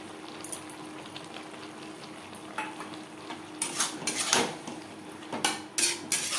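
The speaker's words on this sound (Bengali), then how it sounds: "সবজির সাথে সস বেশ ভালো করে মিক্স করে দেব" Tomato sauce being stirred into fried vegetables in a pan for chilli chicken, heard as close scraping and clinking of a utensil against the pan in short bursts over a soft, steady sizzle.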